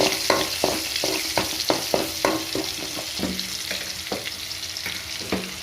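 Onion and two green chillies frying in a pan for a fish pulusu, a steady crackling sizzle punctuated by repeated spatula scrapes and clacks in an uneven rhythm, close and fairly loud.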